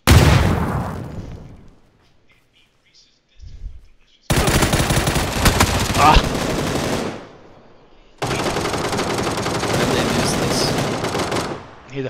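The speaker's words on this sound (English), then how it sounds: "The FAMAS." FAMAS assault rifle fire in the PUBG battle royale game: a short burst fades out, then two long, loud sustained streams of rapid automatic shots follow, separated by a brief gap.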